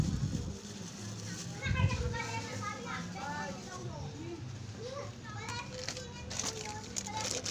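Many children play and chatter nearby around a small neighborhood store in the Philippines, a steady, lively wash of overlapping young voices and shouts filling the background continuously.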